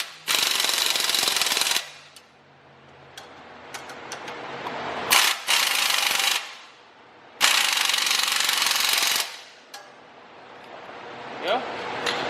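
Impact wrench hammering on front strut and lower control arm bolts of a Dodge Journey, three loud, sustained rattling bursts with short pauses and faint workshop noise between.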